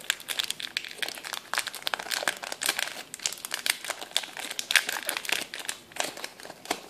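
A Pokémon Emerging Powers booster pack's foil wrapper is crinkled and torn open up close, with steady rapid crackling and rustling throughout.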